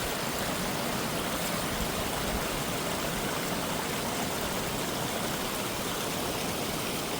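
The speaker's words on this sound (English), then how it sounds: "that's the very top of this little waterfall" Small mountain waterfall in a glen, a dense, steady rush of falling water heard up close and continuous throughout with no voices.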